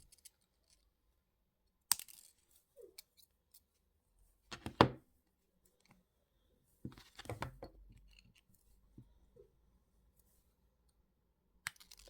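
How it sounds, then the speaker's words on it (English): Small cutters snip half-round jewellery wire on a wire-wrapped ring, making sparse crisp clicks and snaps, a few at a time, close up with silent gaps between them. "So we'll cut those half round wires."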